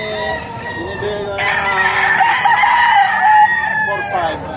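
Roosters crow repeatedly over clucking chickens at a poultry market in Padre Garcia, Batangas, loud and close, with several birds overlapping and a faint murmur of people in the background.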